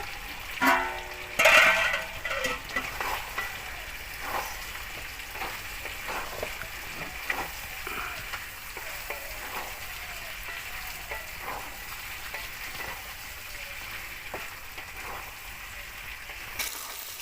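Potatoes frying in oil for a village-style duck curry, with steady soft sizzling throughout and a few louder stirring scrapes and clinks near the start.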